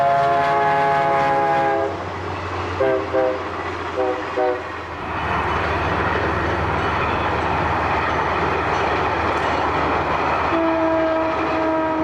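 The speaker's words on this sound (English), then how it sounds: "Trains roll across a causeway north of town like actors on a stage." A train crosses a causeway north of Cold Spring along the Hudson River, opening with a loud horn blast and a few short toots, then a close, steady rolling rumble of wheels on rails.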